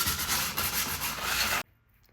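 Sandpaper of 220 grit rubs briskly back and forth over a painted chair with a floral transfer, a steady close scratchy rasp that stops abruptly near the end, leaving quiet.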